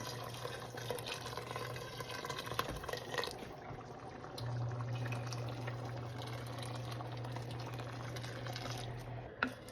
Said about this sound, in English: And then also gonna, obviously gotta put some water, hot water in it.